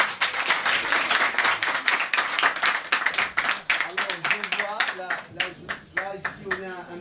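An audience claps at an herbalist's demonstration, a burst of loud, close applause that thins into scattered individual claps while a voice speaks over the tail.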